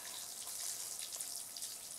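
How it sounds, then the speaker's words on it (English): Water is poured onto the soil around a freshly planted tomato plant, a soft continuous splashing hiss that stays steady and close throughout, with no talking. "I'm going to water it"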